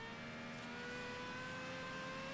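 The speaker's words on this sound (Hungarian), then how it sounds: "ahogy nyomom a gázt, és azzal, ahogy pörög fel a motor" Car engine in the Forza Horizon 5 racing game revving up steadily under acceleration, a continuous rising whine with layered tones, heard alone without talk.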